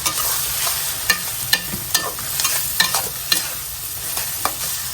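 Ginger garlic paste frying in a pan while a spatula stirs it, for a mola fish curry; an even sizzle runs throughout with sharp scraping knocks of the utensil at irregular intervals.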